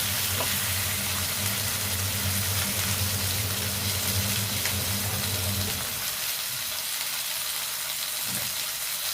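Katla fish frying in a pan with hot oil: a loud, dense, continuous sizzle and crackle throughout, with a low hum underneath that drops away partway through.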